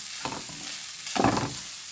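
Grated coconut with turmeric powder being roasted in a pan over low heat, giving two short bursts of soft scraping and sizzling as it is stirred, fairly quiet and close, with no voices.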